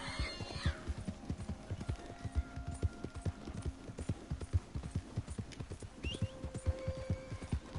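Steady rhythmic clip-clop of horse hooves trotting, with a whinny near the start, over a constant background hum, in the video game Red Dead Redemption 2.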